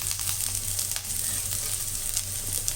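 Curry leaves added to sautéing onion and garlic in a pan: a loud, steady, close-up sizzle of hot oil that holds evenly throughout with no voices.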